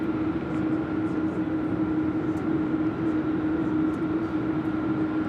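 A Cathay Pacific airliner passing at a distance, heard as a sustained, steady jet engine drone with a prominent humming tone, moderately loud and unbroken for several seconds.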